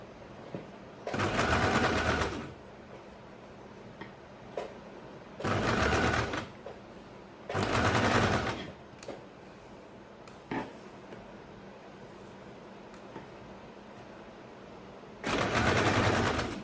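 A sewing machine stitches a baby frock in four separate loud, rapid whirring bursts, each lasting one to two seconds, with quiet pauses between them and no talking.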